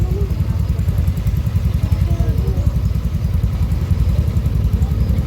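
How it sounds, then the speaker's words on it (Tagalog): A motorcycle putters along a narrow residential lane near a beach, its engine chugging steadily and close by for several seconds, with faint voices in the background. "nakakadaan talaga yung motor."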